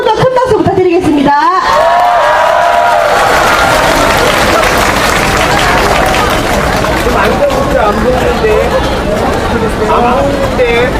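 A large crowd at a candlelight rally bursts into loud, sustained applause mixed with cheering and babble, with a voice over a loudspeaker briefly heard at the start.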